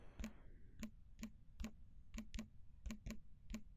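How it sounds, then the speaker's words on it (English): Soft taps on a phone's on-screen keyboard while entering text in the Snapseed editing app, about nine quiet, crisp clicks in an uneven rhythm, close and alone. "I'm going to type in something."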